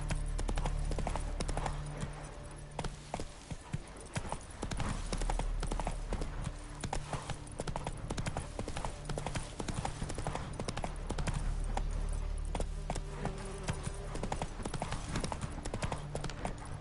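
Roach the horse clip-clops in The Witcher 3, a continuous run of hoofbeats on the PS5 game, dense and steady under constant game ambience throughout.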